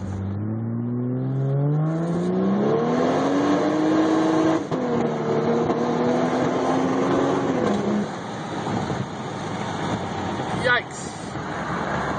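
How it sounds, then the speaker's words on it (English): A twin-turbo 1JZ engine in a Lexus SC300 pulls hard through the gears from inside the cabin, its loud, rising engine note climbing, dropping at a shift, then climbing again before settling. A voice speaks over it. "So, got the 1JZ Lexus going. First real cruise going here."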